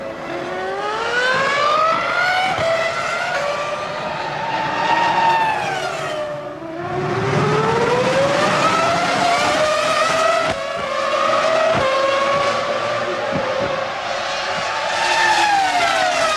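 Formula One cars battle for position at the 2002 Italian Grand Prix at Monza, their high-revving engines screaming past in loud, continuous waves with rising and falling pitch as several cars sweep by close together.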